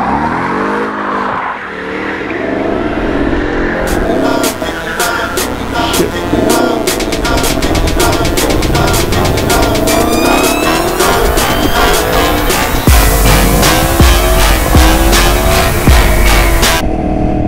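A loud Yamaha FZ10 motorcycle fitted with a louder exhaust idles and then revs hard in repeated sharp bursts, roaring close by at a car meet, with rapid popping crackles near the end.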